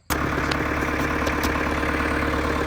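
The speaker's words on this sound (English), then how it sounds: "I got this thing idling." A Ford 5000 diesel tractor engine starts up abruptly, then idles at a steady, loud, close rumble with even mechanical knocking throughout, no voices.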